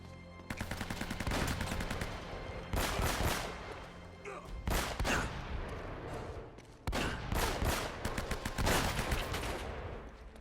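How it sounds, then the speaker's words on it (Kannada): Loud gunfire in the video game Uncharted: Drake's Fortune, with rapid automatic bursts in several clusters separated by short pauses, close and dense throughout. "ಕ್ಲೋಸ್ ರೇಂಜ್ಗೆ ಹೋಗಿ ಹೊಡಿತೀನಿ ನೋಡಿ ಇವಾಗ."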